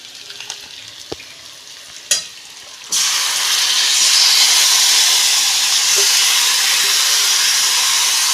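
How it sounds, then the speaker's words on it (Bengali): Mutton pieces dropped into hot oil with fried onions in a pan, where a few light clatters give way to a sudden loud, sustained sizzle and hiss that carries on steadily to the end. "আমি মাংসটা দিচ্ছি।"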